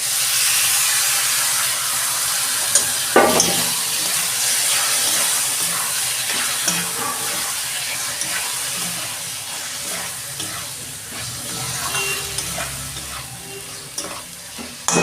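Lote fish drop into a pan of sizzling spice masala and fry, giving a steady loud sizzle and hiss with occasional stirring scrapes and clinks, close by and with no talking.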